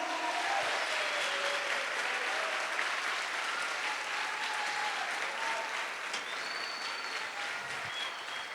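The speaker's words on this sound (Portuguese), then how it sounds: "Aplauda a palavra do Senhor." A church congregation applauds during a sermon, a steady, even wash of clapping sustained for several seconds with faint scattered voices and cheers mixed in.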